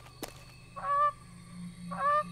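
Duck in the swampy setting of the video game The Forest giving two separate honking calls about a second apart, clear and fairly close, over a faint steady background hum.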